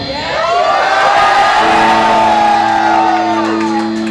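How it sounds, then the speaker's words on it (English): A pub crowd at a rock concert yells in unison, a sustained loud roar of many voices swelling and holding for several seconds before tapering. "can y'all yell out, are you listening for it?"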